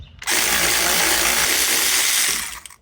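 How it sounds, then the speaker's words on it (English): A battery-powered ratchet spins a nut off a shock absorber bolt on a 1994 Chevy K1500 truck, a loud, close, steady motor whir lasting about two seconds before it cuts off with a brief clatter. "I can use my battery ratchet to get it out the rest of the way"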